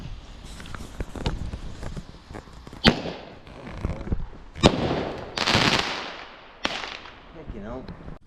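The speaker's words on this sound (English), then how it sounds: "It sends up one single ball from this canister with an amazing boom." Single-ball firework shell fired from a canister during a Bonfire Night display: several loud booms and sharp cracks spread across the clip, with crackling bursts and fizzing between them, heard outdoors.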